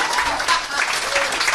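Audience applauding at a live comedy podcast taping, a short dense wash of clapping and crowd noise with voices mixed in.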